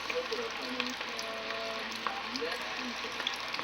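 Hot oil bubbling and sizzling steadily around a small batch of food frying in a pot, a continuous close crackle with a voice talking briefly over it.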